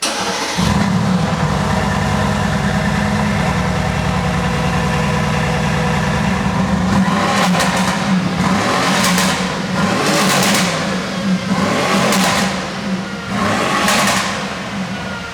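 A tuned 750 hp car engine with a Decata exhaust line, idling loudly at first, then revving hard in four sharp, close bursts over a rumbling idle.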